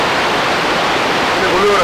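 A winter river swollen with melting snow rushes past in a loud, steady roar of broadband water noise, with a faint voice underneath near the end.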